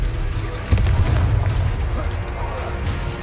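A Confringo blasting curse exploding in Hogwarts Legacy, a sudden close boom followed by rumbling blast noise and combat clatter, with voices talking underneath.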